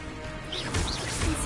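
Expulso explosion spell cast in Hogwarts Legacy, heard as two short crashing bursts with low thumps around the middle and end, over a steady bed of game ambience and music.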